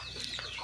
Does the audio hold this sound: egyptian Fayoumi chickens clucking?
yes